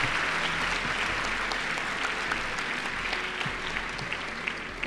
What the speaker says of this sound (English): let's hear a warm round of applause for Sasha Pine